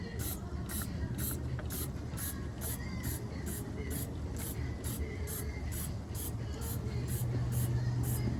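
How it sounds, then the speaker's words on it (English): Degreaser spray hissing onto a GM 10-bolt rear axle in a garage, a steady close spray running for several seconds with faint mechanical clinks underneath. "gonna hit it with some degreaser"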